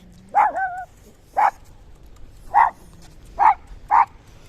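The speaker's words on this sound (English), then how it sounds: "there's a little dog" A small dog barking near Coral Bay harbour in Paphos, Cyprus: five sharp, loud yaps spaced about a second apart, close by with no talk over them.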